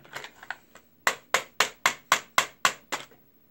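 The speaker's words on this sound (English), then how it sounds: "Give me that hammer. Right now I'm taking off the takedown pin" A hammer taps an AR rifle's takedown pin in a steady series of about eight sharp, close metallic strikes, preceded by a few lighter taps. No voices are heard.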